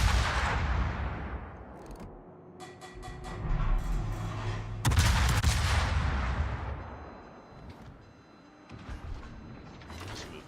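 Warship guns fire in the naval combat game World of Warships, with heavy booming salvos and mechanical turret clanks and creaks that come in bursts and swells over a continuous low rumble, and no voices are heard.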